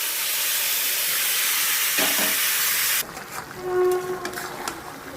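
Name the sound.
marinated chicken sizzling as it is added to hot oil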